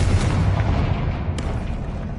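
A Confringo spell blast in Hogwarts Legacy, a heavy booming explosion that hits at once and rumbles loudly through the short moment.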